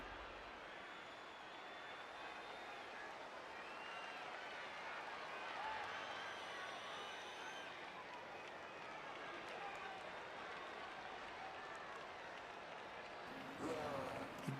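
A cheering crowd from the Blood Bowl video game's kickoff event makes a steady, moderately quiet roar that fills the whole stretch, with voices talking over it.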